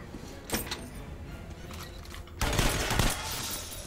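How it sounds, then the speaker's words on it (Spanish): Bursts of automatic gunfire in the Metro: Last Light video game, a short volley near the start followed by a louder, denser burst of shots toward the end, with no talking. "Chico, que me disparas a mí."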